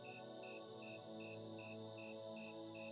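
Crickets chirp at night in a steady pulsing rhythm of short repeated trills, faint against a soft sustained musical background.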